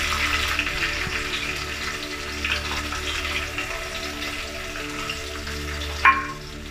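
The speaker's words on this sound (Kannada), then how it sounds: "ಇವಾಗ ಈರುಳ್ಳಿ ಹಾಕ್ಕೊತೀನಿ." Onions sizzling in hot oil in a pan with mustard seeds for a Kannada-style gravy, giving a steady close frying hiss that stays even throughout, with a brief sharp clink near the end.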